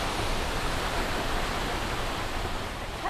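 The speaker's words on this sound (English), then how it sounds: "Haven't seen like a proper waterfall in quite a long time." A proper waterfall at a volcanic hot-water site roars as a steady, dense broadband rush, loud and unbroken throughout with no voices over it.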